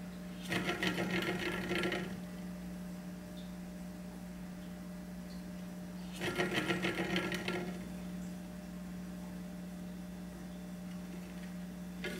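A section of a BB-8 droid body runs mechanically during a sound test, with two separate bursts of buzzy, rattling whirring over a steady low hum, each lasting about one to two seconds.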